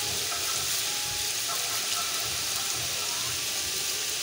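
Water runs in a steady, even hiss while rice is washed in a home kitchen, continuous and close with no pauses.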